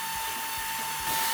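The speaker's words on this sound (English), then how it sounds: "Right now you can hear the CNC run in the background" A CNC machine cutting a white oak slab hums steadily with a high, constant whine and broadband hiss, running continuously without pause.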